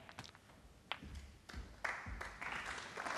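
Snooker crowd at the Australian Goldfields Open final applauding a difficult shot, with scattered claps at first that swell into broad, fairly quiet applause in a hall.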